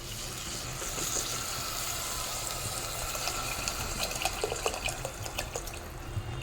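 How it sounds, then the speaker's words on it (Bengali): Water is poured into a pot of spiced mung dal with potatoes, a steady close-up splashing and gurgling stream that grows slightly busier toward the end, with small bubbling and dripping sounds on top. "এখন দিয়ে দেব জল।"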